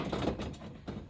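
A bolt being screwed in to mount an OMP HTE EVO Halo seat in a BMW E36, a short close mechanical ratcheting and grinding with a couple of quick clicks, lasting about a second.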